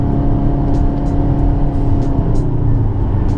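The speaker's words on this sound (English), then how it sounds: "Clutch in, rev it up a little bit." A manual-transmission car engine idles and revs steadily at close range, a continuous low rumble with light rises in pitch, alone with no voices.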